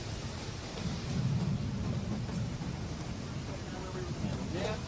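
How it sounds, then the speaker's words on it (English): Steady rain falls with a low rolling rumble of thunder during deadly floods in the United States, a constant hiss that stays even and continuous throughout. "but rain continues to fall"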